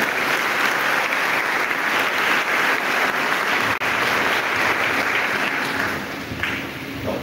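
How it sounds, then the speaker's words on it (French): A congregation at a Sunday Mass in a parish church claps in a dense, sustained burst of applause with faint cheering, loud and filling the room before easing slightly at the end. "Cela peut s'acclamer très fort."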